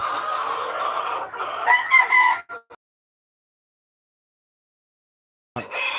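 Chickens in a chicken barn cluck and crow close by for a couple of seconds, then stop abruptly, leaving several seconds of silence before the noise briefly resumes.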